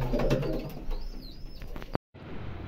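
A pigeon with clipped wings, kept by a pigeon fancier, coos in low repeated throaty notes amid outdoor background noise, with a brief cutout near the end.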